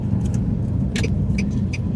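A car drives along a road in Banda Aceh during busy after-work traffic, giving a steady, loud low rumble of engine and tyres with a few faint rattling clicks inside the cabin and no talk.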